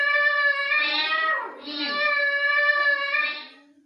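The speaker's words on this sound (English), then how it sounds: "The cat says." A recorded domestic cat meows twice in a long, drawn-out, tonal call, close and clear with a slight dip between the two cries, no talking over it.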